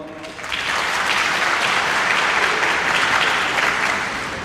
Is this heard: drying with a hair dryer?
no